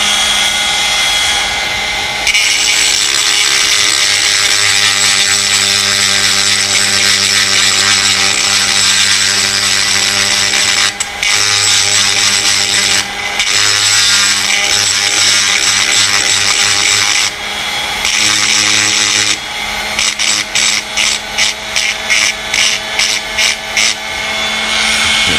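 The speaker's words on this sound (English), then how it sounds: "What we're going to do is gently grind off the excess material that we've got in the slide." Power grinder cutting excess metal from a 1911 pistol slide clamped in a vise, a loud sustained whine with brief dips, then a rapid series of short bursts near the end, no speech.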